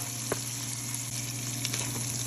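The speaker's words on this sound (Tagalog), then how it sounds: "nagigisa tayo ng maraming bawang sa luya" Garlic, ginger and onion sizzle steadily as they sauté in a hot pan, a soft, even frying hiss with a faint stir or clink now and then, and no one speaking.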